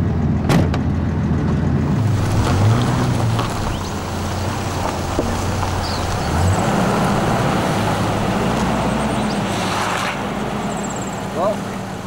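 An 1987 Ford Fairmont with a six-cylinder EFI engine rolls along, a continuous low engine drone and road rumble heard from inside the car, with a clunk near the start and people talking over it.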